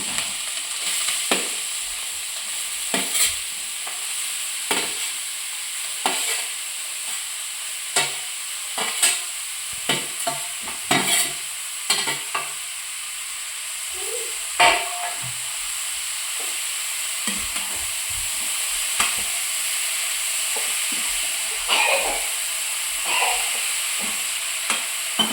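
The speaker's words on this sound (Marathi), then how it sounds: "आता किसलेले गाजर टाकायचे आहे तुपामध्ये।" Grated carrots fry in ghee in a pan for gajar halwa, with a steady sizzle and hiss under repeated scraping, clattering stirs of a spoon. No voices are heard.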